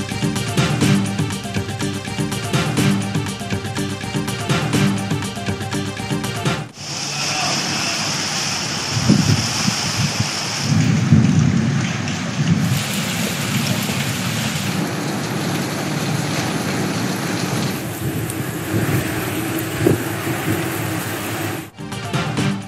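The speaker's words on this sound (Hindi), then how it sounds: "लाहौर समेत पंजाब के कई शहरों में बारिश।" Steady rain pours down in Lahore, Punjab, with low thunder rumbling through it; the downpour is loud and continuous, and its texture shifts partway through.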